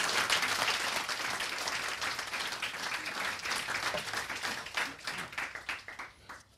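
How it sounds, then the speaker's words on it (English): Dense applause from an audience at a UN human rights report launch, steady and sustained for several seconds before thinning into scattered claps near the end. "Big round of applause."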